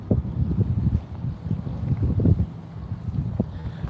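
Wind during Hurricane Ida buffeting the microphone outdoors, loud low rumbling gusts rising and falling throughout, without speech.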